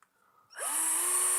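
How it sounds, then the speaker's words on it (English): A cobalt drill bit bores into a motorcycle bracket during a 1991 Yamaha FZR 600 track conversion; after a quiet half second, a close, loud drill whine starts, rises briefly in pitch, then holds steady. "Now I'm going to get my cobalt drill"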